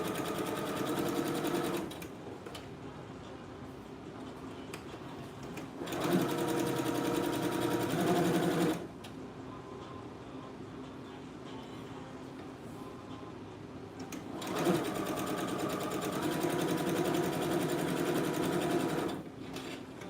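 A sewing machine runs steadily while stitching a bonnet seam, humming continuously with three louder, faster bursts of stitching separated by quieter running, close and with no talk.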